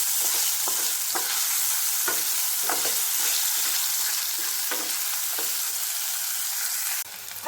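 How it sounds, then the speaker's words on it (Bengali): Diced potatoes fry in hot oil in a kadai with a little salt, giving a steady close sizzle broken by regular scraping stirs about twice a second, with no talking. "সামান্য নুন দিয়ে আমি এখন আলুগুলোকে ভেজে নেব।"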